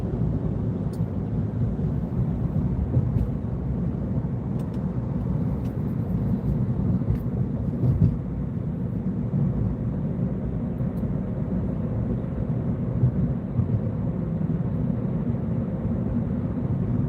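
A plane passes high overhead during a structure and line fire, a steady low roar of engine noise holding at even loudness throughout with no talk.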